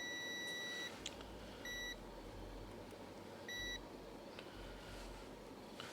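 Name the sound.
multimeter continuity test beep on a Hyundai sensor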